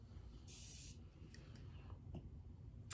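A single short hiss of a spray mist, quiet and close, followed by faint soft rustling.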